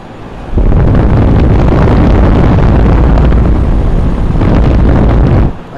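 A Lennox residential air conditioner runs outside a home, a loud, steady, close roar with heavy low rumble that starts abruptly and stops near the end.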